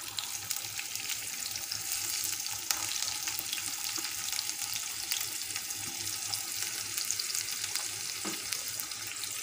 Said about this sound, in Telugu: ఎర్రగడ్డలు వేసుకొని ఇలా కొద్దిగా కలుపుకున్నాము।